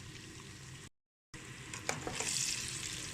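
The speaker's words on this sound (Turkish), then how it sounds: "Tavuklarımız kızarıyor." Chicken sizzles steadily in hot oil, a close crackling hiss broken by a brief silent gap and a few stirring clinks.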